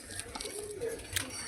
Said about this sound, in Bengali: 7 পিস পায়রা ছেড়ে আর একবার শখ করে দিচ্ছি